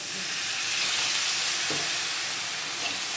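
Spice paste of turmeric and Kashmiri red chili powder sizzles in a pan, a continuous bright hiss of frying that stays even and close throughout.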